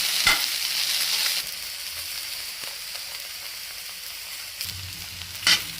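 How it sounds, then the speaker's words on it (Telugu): Okra frying in a pan for a village-style roti chutney with ripe red chillies, a loud hissing sizzle that settles into a softer steady fry, broken by a few sharp scrapes of stirring. "చూసారు కదా ఇవి బాగా వేగినాయి బాగా మగ్గిపోయినాయి బెండకాయలు"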